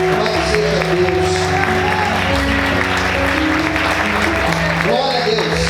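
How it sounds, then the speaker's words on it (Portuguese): Church congregation applauding in praise, steady sustained clapping filling the room with a low organ or keyboard chord held underneath throughout. "Aplauda Jesus de glória."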